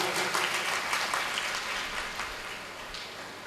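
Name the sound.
audience applause welcoming a guest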